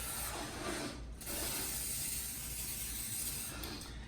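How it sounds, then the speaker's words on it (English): Cooking oil sprayed liberally onto a pan for a smoked jalapeno cheese dip, a steady close hiss that runs nearly continuously with a short pause. "we're just gonna spray this down pretty liberally with some oil here"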